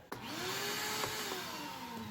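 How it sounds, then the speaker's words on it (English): Shop vac running steadily on a greenhouse seeder rig, a loud continuous whine with a droning tone that bends slightly in pitch as it spins up after a sharp switch-on click. "it's a bit loud on the video because of the shop vac"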